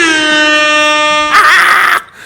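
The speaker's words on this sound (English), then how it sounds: "So, yeah, Drill, we got the air horn." Loud, steady air horn blast with a strong buzzy harmonic tone, held for over a second, then shifting into a harsher, noisier burst before cutting off abruptly.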